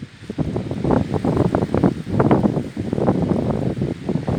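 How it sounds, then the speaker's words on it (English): Strong gusty wind outdoors buffets the microphone during metal detecting in the field, a loud continuous rumbling roar that swells and eases without a break. "This wind is horrendous again."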